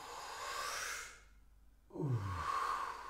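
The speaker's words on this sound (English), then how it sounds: "And you breathe in." A person breathes deeply during a guided breathing exercise, a long airy exhale fading into a brief pause, then a strong deep inhale rising close and clear.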